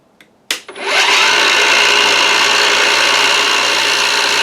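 A power tool starts with a short click and spin-up, then cuts steadily for several seconds with a loud, bright, grinding whine during the rebuild of a musical dual-resonant Tesla coil.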